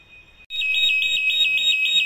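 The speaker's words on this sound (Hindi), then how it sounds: "तो ये अपना हूटर ऑन हो गया है, साउंड कर रहा है" An alarm hooter on an electrical panel, set off by a Buchholz relay trip test, cuts in after a short quiet beep and holds a loud, steady, shrill tone with a rapid pulsing warble until the end.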